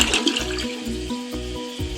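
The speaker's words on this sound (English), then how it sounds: "do the initial flush here" A newly installed toilet is flushed, giving a rushing swirl of water with a pulsing low gurgle as the bowl drains and refills, close and clear.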